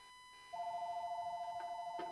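Phone ringing with a steady warbling electronic tone that starts after half a second and continues, fairly quiet, with faint background noise and brief clicks near the end.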